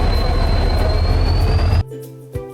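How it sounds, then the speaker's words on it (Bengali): The Chakradharpur Express pulls into a station platform with a loud, close rumble and a steady high whine. The noise cuts off abruptly partway through, leaving a faint hum and one soft thump. "প্ল্যাটফর্মে ঢুকে যাচ্ছে আমাদের ট্রেন"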